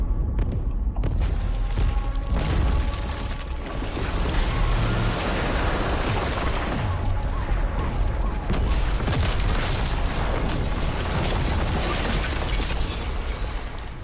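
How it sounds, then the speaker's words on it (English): Explosions in the video game Call of Duty: Black Ops Cold War roll on as a dense, continuous wall of booms, crackling debris and blasts, loud and unbroken throughout with no clear pauses. "Got reports of multiple explosions in Verdansk."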